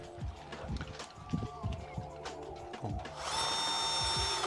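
A power drill bores a 6.5 mm hole through a metal crossbar while mounting a console, with short bursts and clanks of handling, then a sustained whining drill run near the end.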